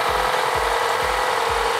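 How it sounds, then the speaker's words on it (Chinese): A 2011 Volvo XC60 T5 engine idles loudly with a fault in its upper section, a close rough drone broken by a regular low knocking pulse about twice per second. "现在我们听到引擎的声音很大声，而且都是在上半部这一块声音比较大"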